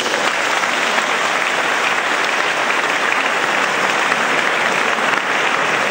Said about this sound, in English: Let us give the Children's Choir another warm round of applause.